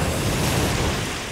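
A grenade explodes in Resident Evil Revelations: a dense, loud, broadband roar filling the whole short moment, fading slightly at the end.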